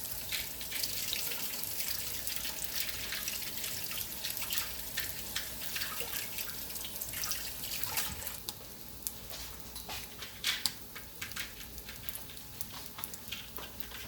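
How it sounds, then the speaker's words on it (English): Tap water runs steadily into a kitchen sink while hands are washed, a constant close hiss and splash with small shifts in tone as the hands move under the stream. "I'm going to go ahead and wash my hands."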